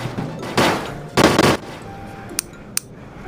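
Two loud broadband blasts of tank gunfire in Melon Sandbox, each about a third of a second, then two short sharp cracks over a low background hum.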